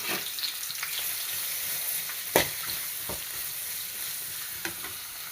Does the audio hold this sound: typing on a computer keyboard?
no